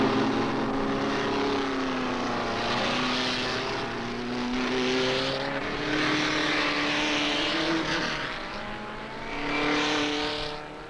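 Super-Vee open-wheel race cars scream down the straightaway in a slipstream battle, high-revving engines droning loudly with pitch rising and falling as cars pass close by, steady and continuous throughout.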